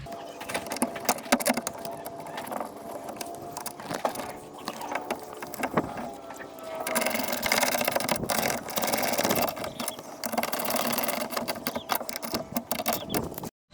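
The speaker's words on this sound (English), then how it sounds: "now we're gonna bolt it up" Someone bolts a power window motor into the driver's front door of a 1999 Buick LeSabre, and the work comes through as a continuous mechanical whirr and rattle of a power tool. Scattered clicks and knocks sit under it, and it grows louder and busier midway through.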